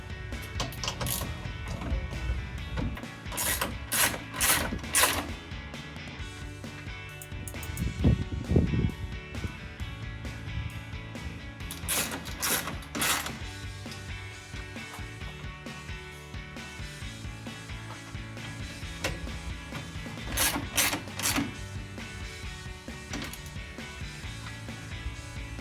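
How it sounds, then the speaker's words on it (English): A 10mm socket ratchet tightens four head bolts on a 2021-2023 Ford F-150 during a grille install, with clustered bursts of sharp clicking under a steady mechanical background. "we're gonna need our 10mm socket and ratchet"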